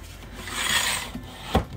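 Photo book paper being trimmed with a cutter, a short dry rasping slide across the sheet that swells and then ends in a brief sharp snap, close and fairly quiet.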